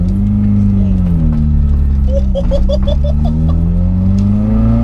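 A 200 BHP Toyota Starlet with a piped, screaming engine pulls out of a junction and accelerates, its loud steady drone rising in pitch with a quick burst of rattling mid-way, heard from inside the car.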